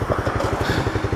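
A Honda CB300F motorcycle engine revs hard and steadily with a fast, regular pulsing beat, close and loud, held for a short burst.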